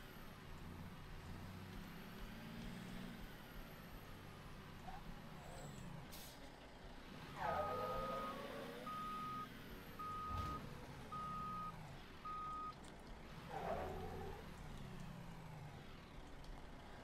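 Reversing truck in Mafia III, a regular string of high warning beeps running across the middle stretch with an air-brake hiss and engine rumble, low game chatter beneath.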